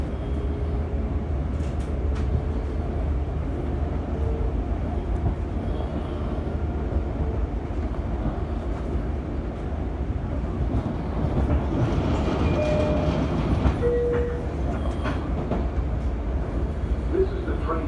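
A commuter train heading toward Penn Station rumbles steadily with low rolling wheel noise, occasional clanks and squeals, and a brief tonal squeal near the end, heard from inside the car.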